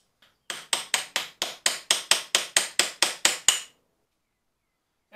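Thirteen sharp, evenly spaced hammer blows on the compound cross slide of a metal lathe, loud and close, then silence.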